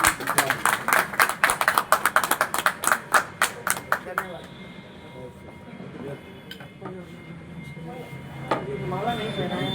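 Loud, energetic clapping from a crowd of traders at a Varanasi furniture and furnishing association election in a dharamshala courtyard, sharp rapid claps for about four seconds, then fading into murmuring voices and talk.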